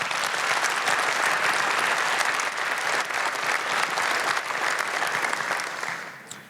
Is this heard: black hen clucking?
no